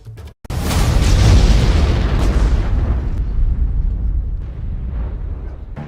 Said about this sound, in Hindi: यूक्रेन पर एक के बाद एक रूसी हमले इस वीडियो में आपको दिखाई देंगे